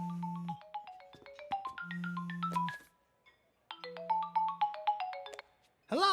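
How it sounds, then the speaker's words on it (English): A phone ringtone plays the Nintendo GameCube boot-up jingle: bright, bouncy electronic chime runs over a low hum, repeated twice with a short pause between, clean and fairly quiet. "recognize this as the famous boot-up song for the Nintendo GameCube"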